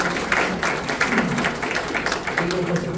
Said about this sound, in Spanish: Un gran aplauso para don José Luis Flores.